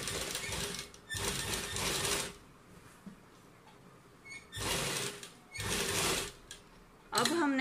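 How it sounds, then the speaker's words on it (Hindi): A sewing machine stitches lace onto a Punjabi suit in four loud bursts of motor whir, separated by quieter pauses with faint handling sounds, ending in a short mechanical clatter. "फोल्ड करने के बाद ऊपर तक सिल लेंगे।"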